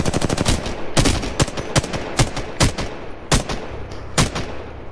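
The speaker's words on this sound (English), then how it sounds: "I just shot him, Ori." Rapid automatic gunfire in the video game Apex Legends, a fast burst of shots followed by spaced single and double bangs, loud and close with no talking.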